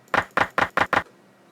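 A muffled, low-pass-filtered clap sample for a lo-fi hip-hop beat in LMMS, struck five times in an even quick rhythm and then stopping, dry and close.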